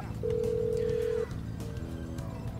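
A phone in the video game GTA 5 calls Little Jacob, with one long steady tone followed by shorter beeps over soft game ambience.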